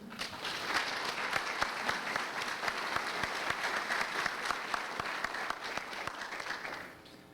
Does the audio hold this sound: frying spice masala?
no